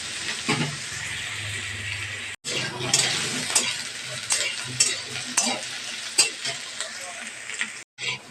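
Potatoes fry in oil in a kadai with a sustained crackling sizzle and intermittent stirring scrapes; the sound drops out briefly twice before resuming.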